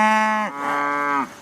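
A cow lowing on a cattle farm that raises animals without hormones or antibiotics: one loud, close, drawn-out moo that falls in pitch partway through and then holds steady before stopping abruptly.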